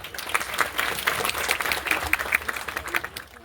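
At a TEDx event, an audience breaks into warm, continuous applause, many hands clapping together in a dense, lively patter that rises and falls slightly over a few seconds.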